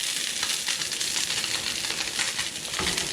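Thick flounder fillets frying in a very hot pan of mixed oil and butter, a loud close hiss and crackling sizzle that runs unbroken throughout.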